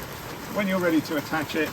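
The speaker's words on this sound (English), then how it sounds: "Sorry about the noise of the rain at the moment." Rain falling outside a parked hire camper van, a constant soft patter under someone talking nearby.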